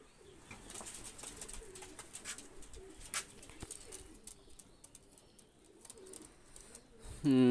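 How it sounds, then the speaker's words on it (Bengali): Two Saki teddy pigeons cooing close by in soft repeated low calls over faint background noise, with a sharp louder rustle at the very end. "তো সাকি টেডি দুইটা কবুতর দেখেন"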